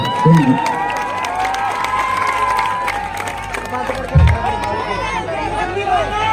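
A crowd cheers and applauds at a lively gathering, with steady hubbub, claps and shouts that run through the whole stretch. Nearby voices chatter over it.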